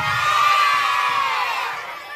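A crowd of middle school children at Ülkü Ortaokulu cheering and shouting loudly together during a comedy show, a sustained dense roar of young voices with whoops that swells and then gradually fades.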